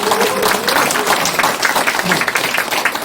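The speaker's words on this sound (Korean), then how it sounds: "서로 큰 박수로 환영하고 격려하도록 하겠습니다" Audience at a political party lecture event in a Cheonan football centre hall applauding to welcome party members: dense, loud, continuous clapping from a large crowd filling the room, with a voice faintly underneath.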